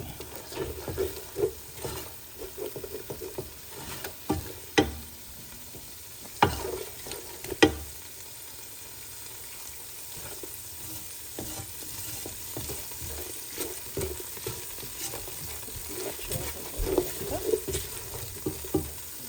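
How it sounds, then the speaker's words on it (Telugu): Cashews and ingredients for chicken pulao frying in a pan, a steady low sizzle with scattered sharp clicks of a spoon stirring against the metal, close and continuous with no talking. "ఇది మంచిగా దీంట్లో ఫ్రై అవ్వాలి."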